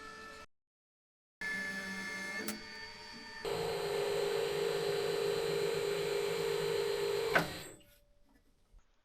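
Flanging machine working 1 mm galvanized steel sheet, a steady mechanical whir and hum that starts, runs evenly for several seconds, then ends with a sharp clack and winds down.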